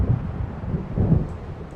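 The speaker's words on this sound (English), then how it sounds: "It seems there's a storm coming." Low, rolling thunder from an approaching storm in the Alan Wake video game, a steady deep rumble that swells slightly toward the end, with no voices.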